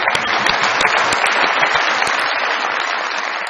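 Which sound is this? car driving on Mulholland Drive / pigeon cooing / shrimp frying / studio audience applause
studio audience applause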